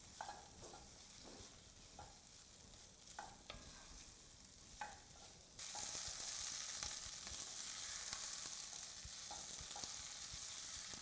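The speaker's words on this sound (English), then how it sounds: "we're going to just let it cook for just a couple of minutes," Short rib mixture for braised short ribs stirring and sizzling in a pot as it caramelizes, a steady close frying hiss with occasional stirring scrapes that grows louder halfway through.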